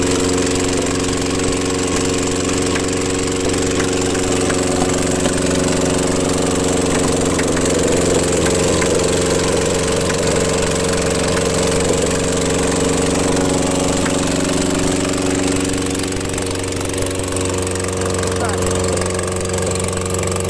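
A Toyota Tercel engine with a bad exhaust valve idles roughly and steadily with an uneven, ticking pulse and a persistent low drone, close by and unbroken throughout.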